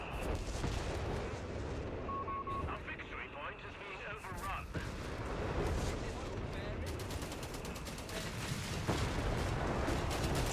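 Booms of British artillery fire from a multiplayer war video game roll on steadily with scattered gunfire crackle, heard beneath continuous commentary from someone talking over the match.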